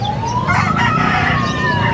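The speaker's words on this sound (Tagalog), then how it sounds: "Daming ibon dyan, no?" A rooster crows loudly and close at a pets and animal market in Bulacan, its long rising, wavering call running the full two seconds over a busy background of other birds, with no one speaking.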